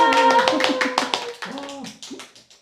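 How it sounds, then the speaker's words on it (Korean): Applause and cheering greet the host of a live-streamed book discussion, with hand claps dense at first and thinning out, mixed with excited voices. "큰 박수로 맞이를 할까요?"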